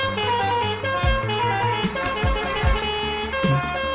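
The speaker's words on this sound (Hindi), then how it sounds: "और हॉर्न मारते हैं, तो प्रॉपर एक हॉर्न मारेंगे अच्छी सी" Bus horn honking in the game Bus Simulator Indonesia, several loud blaring horn blasts in quick succession over a steady engine hum, with no voices.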